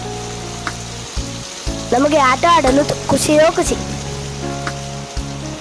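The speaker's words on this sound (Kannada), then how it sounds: "ನಮ್ಮೂರಲ್ಲಿ ಮಳೆ ಜೋರಾಗಿ." Heavy rain pours in a village street, a steady close hiss that fills the whole stretch while someone talks over it.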